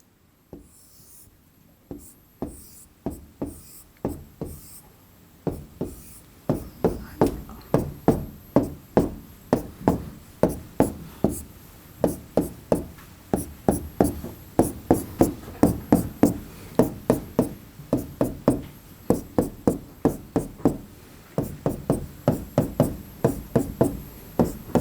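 Chalk writing on a blackboard while drawing pentane isomers in a classroom lesson: sparse taps at first, then a long run of rhythmic sharp knocks and short scratches as strokes are drawn, close and distinct with no talk.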